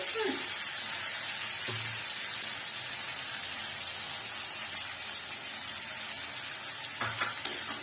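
Tomato masala, loosened with a little water, is sautéed in a pan for a hilsa curry. It gives a soft, steady sizzle with a few brief louder clatters.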